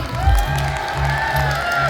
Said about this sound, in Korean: 마지막 4번이 잘했다. 박수와 함성.